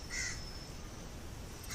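A single crow caw rings out at the start, fairly faint and distant, followed by quiet background hiss and the onset of another call at the very end.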